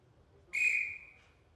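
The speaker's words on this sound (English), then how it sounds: "Wait for the whistle" A single sharp whistle blast signals the start of a rookie woodchopping event at a STIHL Timbersports competition in New Zealand, about half a second long and fading, over a low crowd murmur.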